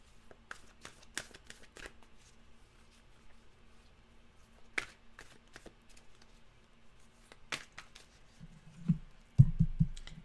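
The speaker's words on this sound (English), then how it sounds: "So we'll give them a fast shuffle" A deck of tarot cards is given a fast shuffle, producing quiet, scattered riffling clicks and taps, close and soft, followed by a few louder thumps near the end as the deck is handled.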